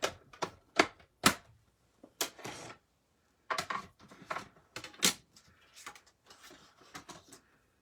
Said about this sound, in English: Let me get the little machine here and let's cut this.